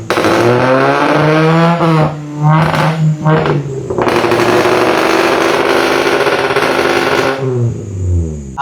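A car engine revs hard under acceleration, its loud, close roar climbing in pitch, briefly easing and surging again across several rises, with a short dip near the end.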